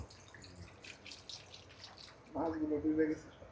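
Water poured into a pot of freshly bought river fish, a short splashing, gurgling pour that starts midway under faint background sounds.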